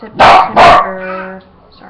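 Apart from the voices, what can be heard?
dog barking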